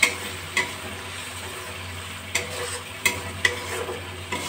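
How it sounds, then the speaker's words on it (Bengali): Slit green chillies and spices frying in oil over a raised gas flame, a constant sizzle broken by several sharp spatula scrapes against the pan, with no talking. "একটু নাড়াচাড়া করে দিচ্ছি।"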